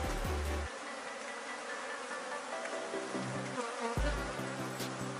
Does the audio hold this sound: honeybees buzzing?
yes